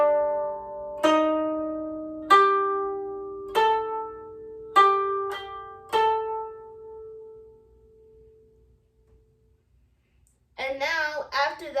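Koto plucked through the beginner piece Usagi (Rabbit): about seven single notes struck at a steady, slow pace, each ringing and decaying, the last one fading long into silence before a voice starts speaking at the end.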